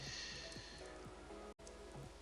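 Steady light rainfall patters in a golf video game, a soft continuous hiss with faint dripping detail, quiet and even throughout with a brief dropout near the end.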